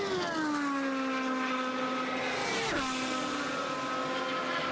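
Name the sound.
Herbalife IndyCar of Townsend Bell racing at Indianapolis 500 qualifying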